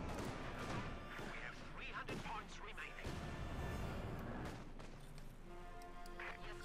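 30mm flak fire from a flak panzer in the strategy game Company of Heroes 2, with rapid bursts, thuds and crashes of battle sounding under continuous commentary.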